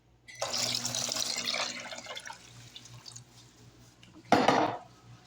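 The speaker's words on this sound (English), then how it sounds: "But we want to add the broth." Broth poured into a pot of cooking onions and celery, heard as a steady liquid pour that fades out, followed by a brief louder splash or clatter near the end.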